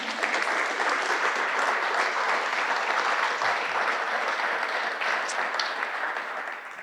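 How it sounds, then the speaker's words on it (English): Audience in a room at a regional airport's air service announcement event applauds steadily for several seconds. The clapping is dense and sustained, then tapers slightly at the end. "Everybody clap for Matt, please."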